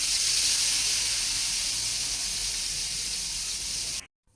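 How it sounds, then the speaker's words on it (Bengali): Rohu fish head and tail, rubbed with chili powder, turmeric and salt, sizzle in hot oil with a steady, loud bright hiss that runs unbroken for several seconds and then cuts off abruptly. "প্রথমে আমি রুই মাছের মাথা ও লেজ মরিচ গুঁড়ো, হলুদ গুঁড়ো ও লবণ দিয়ে ভালোভাবে মেখে গরম তেলের মধ্যে এটা ভালোভাবে ভেজে"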